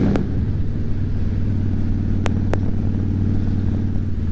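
A motorcycle cruising at night under an overpass on a dry, warm evening gives a steady, loud, low engine drone that holds an even pitch throughout, with a couple of brief sharp ticks over the hum and no voices.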